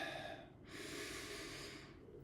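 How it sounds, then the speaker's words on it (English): One person taking a deep breath, a close airy inhale swelling into a long steady rush of air, with no talking. "I always like to take a couple deep breaths."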